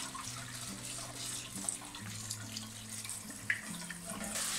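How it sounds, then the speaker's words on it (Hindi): Cold tap water runs steadily over boiled macaroni being rinsed in a kitchen, a continuous hissing splash with a couple of small clinks, under soft background music. "ठंडे पानी से इसको फौरन आपने मैक्रोनी को ठंडा कर लेना है"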